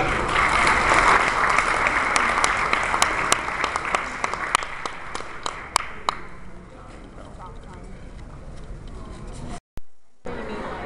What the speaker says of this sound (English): let's have a round of applause for these great graduates